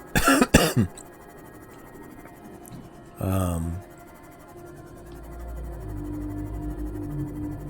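A person coughs several times, a quick harsh cluster of close coughs at the start, then one more rough cough a few seconds later, with quiet room noise and a low hum between.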